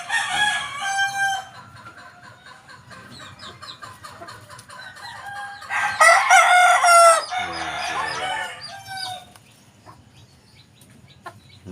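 Four-month-old backyard-bred stags crowing and clucking in a yard, several young roosters overlapping with strained, breaking crows, loud and close, a burst of louder crowing in the middle.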